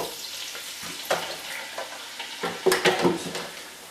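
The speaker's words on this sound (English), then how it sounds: "So just a handful of the French fries into a basket and into the oil for around 5 to 7 minutes" French fries frying in a basket of hot oil, a steady close sizzle with a few clattering stirs and knocks of the basket, no voices.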